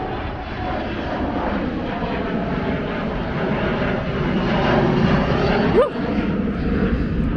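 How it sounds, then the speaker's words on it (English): A loud, steady roar of an airplane engine taking off at Columbus Airport, building and rushing past nearby, filling the whole clip without a break. "oh, we got a plane taking off"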